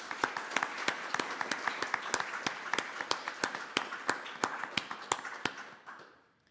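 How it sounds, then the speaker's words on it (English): Sparse, steady clapping from a small audience at the close of a user review meeting, distinct individual claps ringing out for several seconds before trailing off. "Big applause, one for them."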